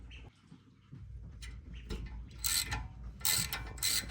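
A ratchet turns an H9 hex bit on the front brake caliper bolts of a 2007–09 Ford Expedition or Lincoln Navigator, making quiet clicking strokes followed by a few louder bursts of rapid ratcheting near the end.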